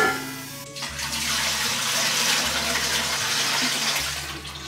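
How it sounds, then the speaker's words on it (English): Water pours steadily into a Berkey water filter in a homestead kitchen, a continuous close splashing rush that runs several seconds without talk, under a low intermittent background hum. "I need to fill the Berkey."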